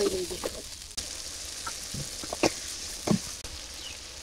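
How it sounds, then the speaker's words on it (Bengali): Cumin, garlic, turmeric and chili frying in a pan in a village kitchen, a soft continuous sizzle broken by scattered sharp spoon scrapes and knocks, fairly close. "আমার মশলা কষানো হয়ে গেছে"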